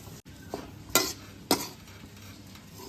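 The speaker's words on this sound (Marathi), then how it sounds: "शिल्लक राहिलेल्या तुपामध्ये मी खारीक आणि खोबऱ्याची पावडर चांगली भाजून घेणार आहे" Dried dates and coconut powder roast in leftover ghee over low heat, with a faint sizzle broken by three short, sharp spoon scrapes and stirs against the pan.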